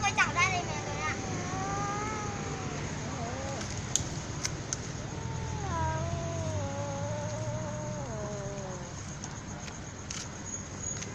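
A cat being chased lets out long, drawn-out wavering yowls, one stretch early and another in the middle, over steady outdoor background noise.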